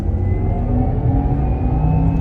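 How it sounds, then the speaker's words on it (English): A deep, steady synthetic rumble from a 2020 Porsche Taycan Turbo electric drive system's engineered Sport Sound, loud and close, holding an even low drone with a faint rising whine above it. "I love that Porsche engineered sound into this. It's called Sport Sound."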